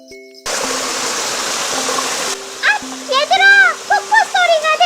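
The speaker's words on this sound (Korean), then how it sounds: "폭포 소리가 들려!" A rushing waterfall in a forest is a steady broadband hiss that starts suddenly. Bright animated children's voices then call out over it.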